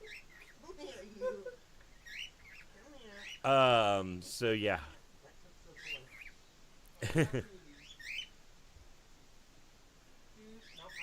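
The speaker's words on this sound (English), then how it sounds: "Okay, we're being invaded by birds." Several birds chirp and tweet close by in short bursts, with a couple of louder calls standing out, while people keep talking underneath.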